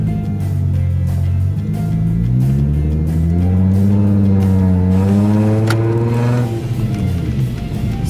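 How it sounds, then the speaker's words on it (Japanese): Toyota Mark X V6 with a one-off custom muffler and lowered suspension revving hard, a loud, continuous close engine note climbing and falling in pitch through several sweeps before settling, with no talk over it. "音がいいんだからレーシングカーの音がほら"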